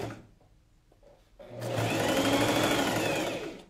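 A sewing machine stitches a curve on a designer coat with the presser foot down, a brief quiet start followed by a steady, loud, rapid whirring run that holds without pause, with no talking.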